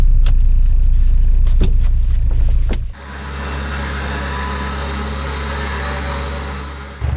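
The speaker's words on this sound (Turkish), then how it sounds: "Şu an vinçlemeye başlayacağız." An off-road vehicle's winch hauls a stuck car on a trail: a loud steady motor whine and rumble runs continuously for several seconds after a few sharp knocks and engine noise at the start.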